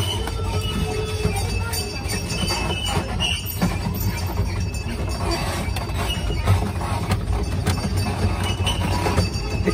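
A children's train ride rolls along in a candy store, giving a steady rumble with rattles, clinks and faint squeaks under the noise, and voices of people talking and chanting throughout.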